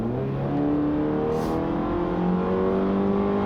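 The four-cylinder engine of a 2016 Fiat 500X Trekking revs up steadily with a rising, thrashy drone heard from inside the car, continuous and moderately loud, with no talk.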